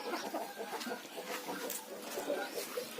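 Backyard chickens cluck softly and steadily as they peck through scattered wheat grain in a village yard, with the low murmuring of the flock continuing throughout and a brief sharper call breaking through.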